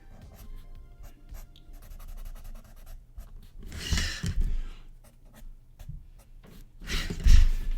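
Pencil sketching a face on paper, with soft scratchy strokes in short bursts and a few louder rubbing passes, close and quiet with no talk.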